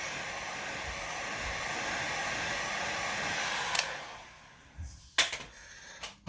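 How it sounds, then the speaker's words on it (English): A heat gun blows a steady, close airflow over a resin mold, its hiss running for about four seconds before cutting off, followed by a few short clicks and knocks in quieter surroundings. "give this a heat blast"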